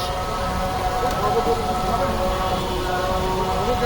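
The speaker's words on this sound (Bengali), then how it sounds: "বাইরে হচ্ছে বৃষ্টি" Steady rain hisses on surfaces outside in Uttara, a constant even wash of noise with no breaks.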